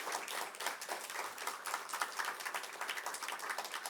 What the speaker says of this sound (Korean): 우리 힘차게 격려 박수합니다.